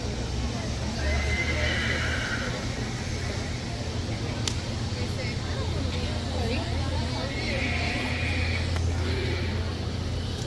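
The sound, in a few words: black Percheron horses neighing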